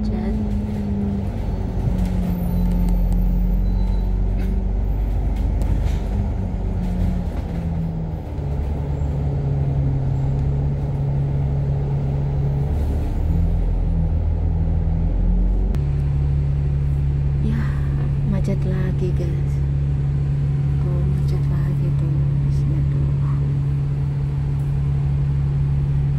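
Congested Hong Kong street traffic of cars and buses: continuous deep engine rumble and idling drone nearby, with a bus engine tone rising and holding, and a voice talking intermittently over the noise.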